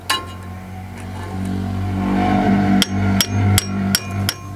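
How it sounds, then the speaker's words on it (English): Several sharp metallic hammer strikes on a manual impact driver, loosening a screw while changing the brakes on a Honda Odyssey; about five blows landing at an uneven pace after a stretch of low background hum, close and loud. "you stick it in and you hammer it and try to twist it at the same time"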